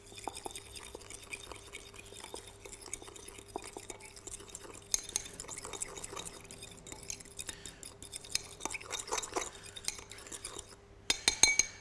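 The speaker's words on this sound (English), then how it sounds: "And we want to mix all of those together. Change to a fork." A fork whisks lemon juice and sugar into a dressing, giving faint, intermittent clinks and light scraping against the bowl that grow busier toward the end, with no talking.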